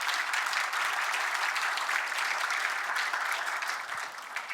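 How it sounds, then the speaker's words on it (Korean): A crowd at a startup competition's final round applauds steadily, welcoming the finalists with loud, dense clapping that holds evenly throughout and eases off slightly at the end. "큰 박수 부탁드립니다"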